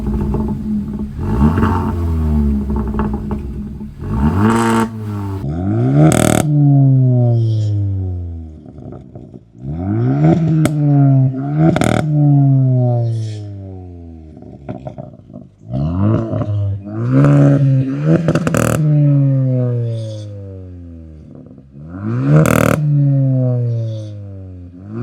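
A 2-liter four-cylinder turbocharged N-Line car's exhaust revs repeatedly, with a series of loud, sweeping rises and falls in pitch and brief pauses between several blips, close and alone without talk.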